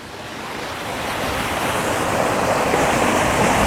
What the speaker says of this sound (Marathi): ही बघा घराट म्हणतात इथे, पण आपण जे म्हणतो जे गिरणी ती आहे आणि या इकडून पाणी येत आहे